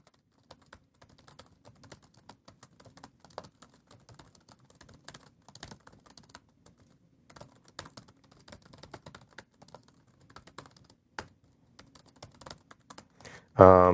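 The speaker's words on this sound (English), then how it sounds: "I realize I'm typing in my password live over the internet." Fingers tap out a password on a computer keyboard, irregular bursts of quiet keystrokes over fourteen seconds, close and dry, ending in a short louder noise.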